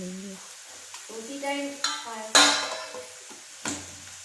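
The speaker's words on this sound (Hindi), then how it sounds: "अच्छे से हम भून लेंगे।" Turmeric- and chilli-spiced vegetables being fried in a pan in a home kitchen, a series of spoon scrapes and clinks against the pan over a soft sizzle, close and distinct, with no talk.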